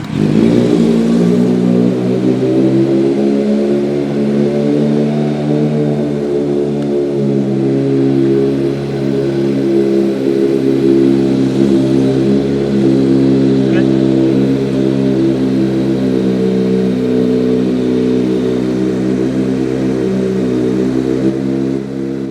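A parked motorcycle's engine runs at a steady idle close by, a low even rumble that continues unchanged throughout while a person talks over it.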